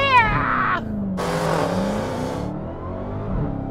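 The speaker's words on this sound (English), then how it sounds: "we're ready to go for big smoky burnouts" A 2019 Dodge Challenger SRT Hellcat Redeye on line lock revs hard for a smoky burnout, loud engine roars rising and falling in close bursts.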